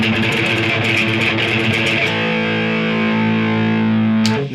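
An electric guitar on a coil-tapped humbucker plays a crunchy, distorted strummed passage, then settles into a sustained ringing chord that holds loud and steady until a sharp stop.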